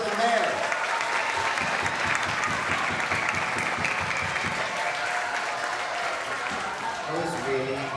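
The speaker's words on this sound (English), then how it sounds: "One more round of applause for student council and for the mayor." A school awards assembly crowd applauds student council and the mayor, sustained dense clapping from many hands filling the room at steady loudness for the full stretch, with some voices mixed in.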